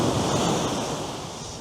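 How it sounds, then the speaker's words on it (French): Loud, steady roar of ocean waves breaking on the San Francisco shore, close by and wind-buffeted, filling the whole moment without any voice. "Il y a même des vagues jusqu'ici"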